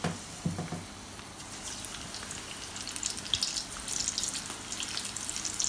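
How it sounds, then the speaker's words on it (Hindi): Green chillies coated in besan frying in hot oil, a soft, continuous crackling sizzle with light popping, close but fairly quiet, with no one talking. "मिर्ची भी फ्राई हो रहा है"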